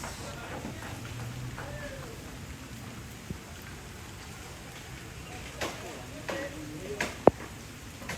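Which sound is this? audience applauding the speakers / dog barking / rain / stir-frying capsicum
rain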